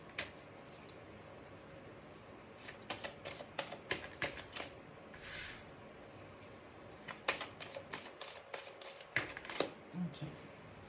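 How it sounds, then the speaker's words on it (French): Oracle cards are shuffled by hand in a quiet room, giving soft papery riffles and slaps in irregular bursts, faint and close, with brief pauses between handfuls. "je vais prendre quelques cartes de l'oracle des miroirs"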